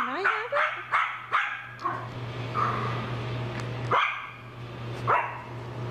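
Small dog barking in a run of sharp, close yips and barks, several quick ones then spaced single barks, over a steady low hum with a person talking softly between them.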